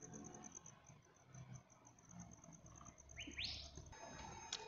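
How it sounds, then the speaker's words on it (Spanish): Small birds sing faintly in an outdoor town setting in Xayacatlan de Bravo, Puebla, giving a few brief rising chirps over a steady high insect-like whine and a low background murmur. "Otra cosa que amo es el cantar de los pajaritos."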